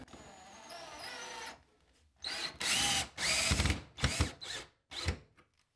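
A power drill pre-drills holes for the anchor bolts of a home battery mounted on a wall. After a quiet whirring start, several short loud bursts of drilling follow, with brief pauses between them.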